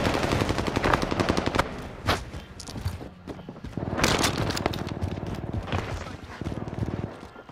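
Rapid automatic gunfire from a video game shooter, with bursts of shots, a few heavier bangs and footstep-like clatter, heard under talk from players.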